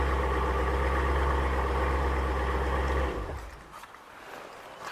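Dodge Challenger Scat Pack V8 rumbling loudly at close range with a deep, steady throb for about three seconds, then cutting off abruptly and leaving faint background noise.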